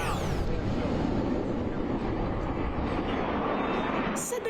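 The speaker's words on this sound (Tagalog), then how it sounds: "Sa dagundong ng fighter jets" Fighter jets roar overhead during a U.S. 250th anniversary celebration in Washington, D.C., a loud, continuous broadband rumble sustained throughout.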